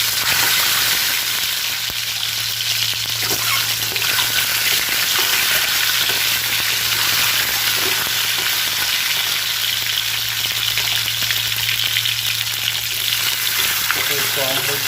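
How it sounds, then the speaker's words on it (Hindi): Eggs frying in hot oil already used for onions while cooking egg biryani in a pressure cooker: a loud, steady crackling sizzle with occasional stirring clinks, close and continuous, no voices. "अभी हम लोग ये अंडा फ्राई करेंगे उसी तेल में, जिस तेल में हम लोग ने किया था ऑनियन फ्राई"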